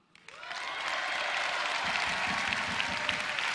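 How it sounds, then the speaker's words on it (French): Crowd applause at a French political rally: dense, steady clapping that rises within the first half second and then holds loud and sustained throughout, with no talk over it. "C'est quand l'orateur va appeler des applaudissements de la foule."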